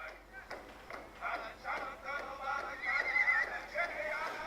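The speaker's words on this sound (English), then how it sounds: "each time the horse would neigh like that" A horse whinnies in a long, wavering neigh that rises toward the end, layered with softer snorts and faint background noise.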